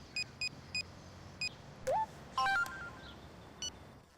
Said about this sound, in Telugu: శివరామన్, ఫోన్ ఎత్తు.